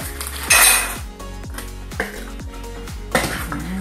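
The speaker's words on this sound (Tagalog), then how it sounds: "Haluin po natin" A utensil scrapes and knocks around a bowl while homemade tocino is mixed with honey and red sugar, producing repeated clinks and clatter in an uneven rhythm, loud and close, with no talking.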